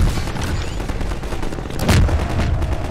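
A gun fires repeatedly in Half-Life 2, a loud, close and steady stream of rapid shots with a heavier blast near the end, with no voice over it.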